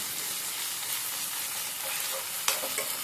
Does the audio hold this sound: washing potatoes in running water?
no